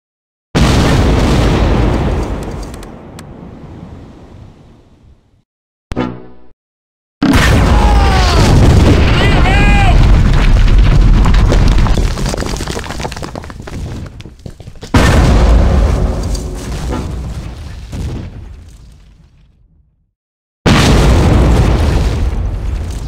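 Heavy explosions and booming artillery fire from the Close Combat war game, set in a World War II battle at the Abbaye d'Ardenne, roll out in long, loud bursts broken by brief silences and sharp popping shots.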